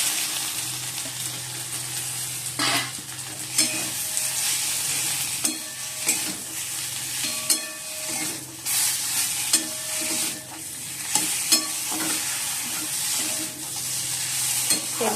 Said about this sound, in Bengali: এবার আমি এই ভাজা বেগুনগুলো দিয়ে দিচ্ছি